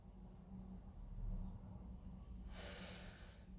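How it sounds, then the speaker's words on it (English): A long, deep breath during a Pilates workout flows in a soft, steady rush, then ends in a louder, airy exhale near the end, close and unaccompanied by talk. "Breathe in and out."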